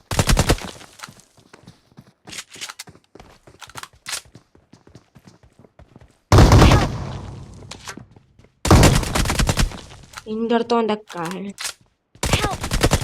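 Bursts of gunfire from the mobile battle royale game PUBG (BGMI), sharp rapid shots scattered through the clip, loud and close, with players talking over and between them.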